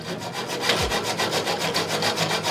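White wire shelving is sawn by hand for a cabinet greenhouse conversion, steady rhythmic back-and-forth rasping strokes, close and fairly loud, with no voices.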